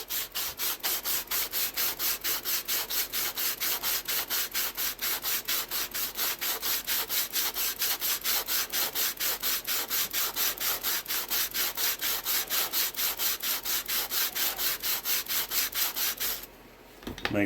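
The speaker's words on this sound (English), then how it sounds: "I think I'm going to sand the back post here." Rapid, rhythmic rasping of hand sanding on a wooden post, dozens of even back-and-forth strokes close up, continuing steadily before stopping near the end.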